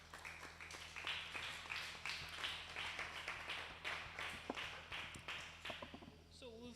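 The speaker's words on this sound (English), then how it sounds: "Please, a round of applause" Applause from a youth business seminar audience after a panel speaker, sparse individual hand claps with a tapping quality, fairly quiet and distant, continuing for several seconds and thinning out at the end.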